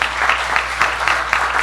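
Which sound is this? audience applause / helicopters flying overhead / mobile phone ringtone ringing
audience applause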